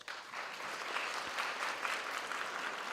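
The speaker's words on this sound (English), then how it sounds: "Can you applaud yourselves?" A graduation audience at Walter Sisulu University applauds steadily, a dense wash of clapping that holds evenly throughout with no voices on top.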